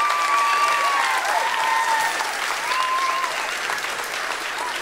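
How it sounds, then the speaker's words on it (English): Audience applause fills a school Grandparents Day gathering, a steady wash of many hands clapping together at moderate volume, with a few faint whistle-like tones riding above it and no talking. "So let's give them a round of applause."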